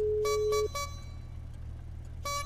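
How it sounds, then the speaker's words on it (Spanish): A car horn in a video game sounds several short honks in quick succession, then pauses and honks again, loud and close over a steady low engine hum, with no talking. "Bocina."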